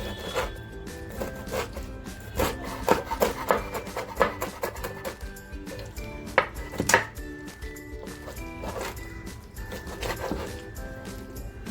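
Bombay duck fish is chopped finely with a knife on a board, a close run of uneven taps, scrapes and rubbing strokes, sometimes in quick bursts, with no talk.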